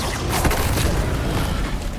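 The Levioso levitation spell fires in Hogwarts Legacy with a booming magical whoosh and rumble, sustained and close for a couple of seconds amid busy game sound.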